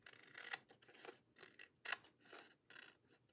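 Scissors snip through an index card at close range, a series of crisp, separate cuts coming in an uneven rhythm, quiet and alone.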